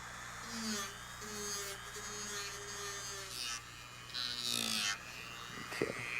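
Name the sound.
polishing molded pads off back of eyeglass frame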